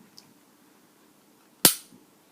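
A pistol is dry fired, its trigger pulled on a cleared, empty gun, giving one sharp, loud metallic click close by that decays quickly, preceded by a tiny tick and otherwise near silence.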